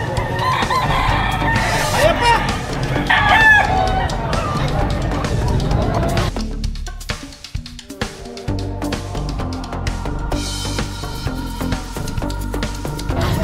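Roosters crow repeatedly at a busy gamefowl market in Padre Garcia, Batangas, mixed with clucking and crowd noise, while people talk and call out nearby.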